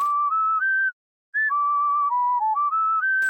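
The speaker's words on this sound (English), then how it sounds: "His melodies were whistles." A clean whistled melody for the cowboy sheriff character in the Sprunki video game, a string of sustained notes stepping up and down, clear and close, with one short pause partway through and no talking.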